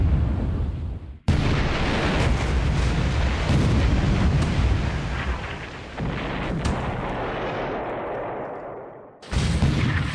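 Heavy naval gunfire and shell impacts rumble through a World War II-era naval game as shells strike the thick armor of the cruiser Missoula, a loud, dense barrage of booms that dies out briefly near the end before resuming.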